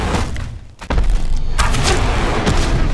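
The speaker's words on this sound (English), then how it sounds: "he's gonna destroy this rock" A giant boss in the video game Conan Exiles smashing a rock: one heavy, booming impact followed by a rumbling crash that lingers, with no talking.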